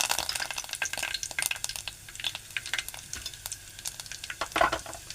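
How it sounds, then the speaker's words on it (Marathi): Mustard seeds with cumin and curry leaves spluttering in hot oil, a dense run of sharp, close pops and crackles over a steady sizzle, with a louder burst near the end. "राई तडतडायला लागलेली आहे."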